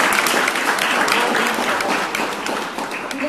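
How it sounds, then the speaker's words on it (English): A room full of people claps warmly, a loud sustained round of applause that thins out slightly toward the end. "oh, you can clap for that."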